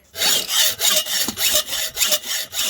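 A hand saw cuts through a metal presser foot for a chain stitch embroidery machine held in a vise, giving about nine rhythmic rasping strokes, close and loud with no talk.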